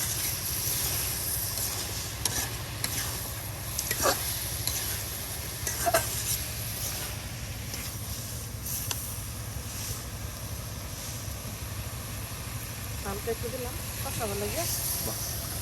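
Vegetables stirred and fried with spices in a pan for a village breakfast, a steady close sizzle and hiss with scraping stirs, under someone talking throughout.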